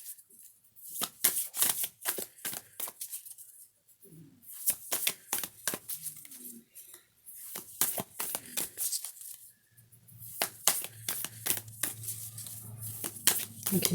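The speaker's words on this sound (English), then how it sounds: "I'm doing a lot of shuffling now." Tarot cards shuffled by hand in repeated bursts of crisp riffling and slapping, close and fairly loud, with short pauses between rounds and a low steady hum underneath.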